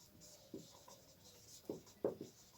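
Pen writing out a fraction addition example, a few short scratchy strokes spaced apart, close and fairly faint in a quiet room.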